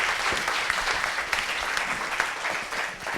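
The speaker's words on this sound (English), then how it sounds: "Give him one more round of applause" Audience applause at a live talk event at Mindvalley HQ, a dense steady burst of many hands clapping close and loud, sustained throughout with a few faint cheers and no clear speech.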